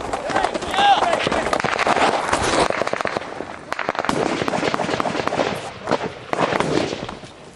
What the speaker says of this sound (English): So much shooting, it's hard to tell where it's coming from